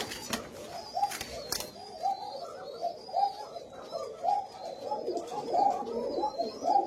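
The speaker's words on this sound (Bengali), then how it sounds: "এগুলো হচ্ছে ভালো মানের হাই কোয়ালিটি লাল কোকা কবুতর।" Red Koka pigeons coo in repeated soft, rolling calls, roughly once a second in a steady rhythm, close by and clear against a quiet background.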